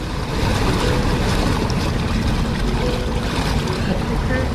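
A car plunges into water with a heavy, sustained splashing and churning roar that carries on loudly for several seconds, with faint voices in the background.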